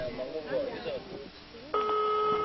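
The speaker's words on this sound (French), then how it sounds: "le téléphone de Mathieu est en train de sonner." A telephone begins ringing partway through with a steady, loud electronic ring tone that cuts in sharply after a stretch of speech and holds to the end.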